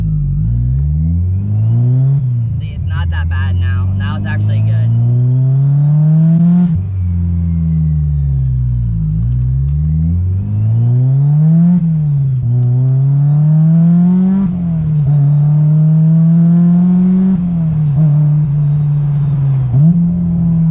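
A convertible's engine revs loudly and repeatedly while driving with the top down, its exhaust note climbing through the gears and dropping with each shift, a voice speaking briefly underneath.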